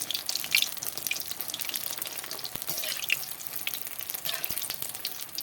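Flour dough puffs deep-frying in hot oil, a continuous close hiss of fine bubbling with scattered pops and crackles, moderately quiet and unbroken, no voices.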